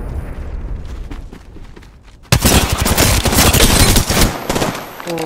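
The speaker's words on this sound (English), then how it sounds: "Oh, I can't shoot this gun." Loud automatic gunfire from the video game Apex Legends erupts suddenly partway through, sustained rapid bursts after a quieter stretch with a faint voice.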